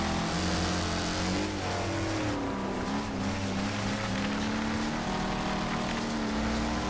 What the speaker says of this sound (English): I hear a car right behind me